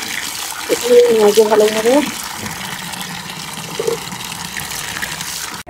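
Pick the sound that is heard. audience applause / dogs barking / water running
water running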